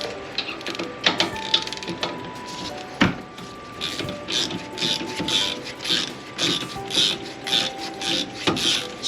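A brake caliper slide pin is worked out of a Honda Civic Si's rear caliper, a close series of metallic clicks, ratcheting and scraping in a loose repeating rhythm with quiet background, no talk.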